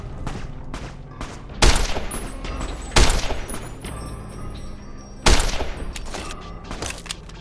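Gunfire from the video game Fallout New Vegas: three loud, sharp bursts of shots stand out over a steady rumbling in-game background, with smaller pops scattered between them.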